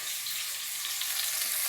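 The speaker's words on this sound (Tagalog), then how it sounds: "Kaya, talaga nagigisa." Pork sizzles in a hot pan as it is sautéed for sinigang, a bright, steady crackling hiss with small popping spatters, close and continuous with no talking.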